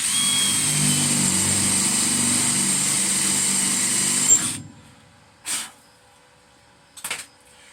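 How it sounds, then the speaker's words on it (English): A high-pitched power drill motor whines steadily for several seconds while drilling sheet metal on a 1975 Ford F250 floor repair panel, then cuts off, followed by two short bursts of the same tool. "just drill halfway through."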